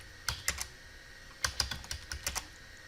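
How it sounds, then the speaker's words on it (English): Password typed on a computer keyboard: a few quick clicks, a pause, then a denser run of light key taps, close and fairly quiet against a faint steady hum. "oops, I have to type the password in"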